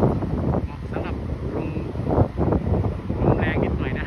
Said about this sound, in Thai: ลมแรงนิดหน่อยนะฮะ